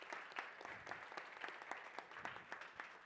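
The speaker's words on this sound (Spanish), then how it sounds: "Un aplauso para todos" Applause from a seated audience at a conference session on energy and sustainability, a steady patter of many hands clapping throughout with no voices over it.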